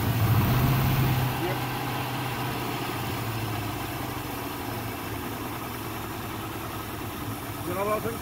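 A Land Rover V8 that sat in a field for 12 years idles close by, a loud low rumbling burble that starts slightly rougher and settles into a steady, even idle.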